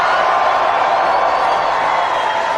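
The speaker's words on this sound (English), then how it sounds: "Make some noise if you care about the Jeffrey Epstein scandal." A huge crowd at a live political show screams and cheers, a loud, unbroken roar of thousands of voices.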